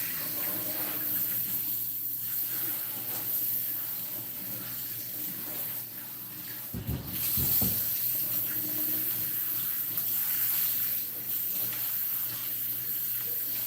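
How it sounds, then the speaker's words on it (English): Tap water running steadily while hair is rinsed, a soft continuous hiss with a brief louder splash in the middle. "when you're rinsing, just keep the water at the back of your nape and just let it run down your head"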